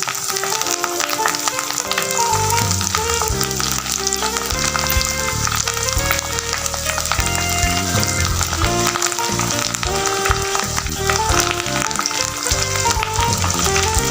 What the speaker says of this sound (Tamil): இப்போ புதினா இலைகள் போட்டு நல்லா கிண்டிக்கிடுவோம்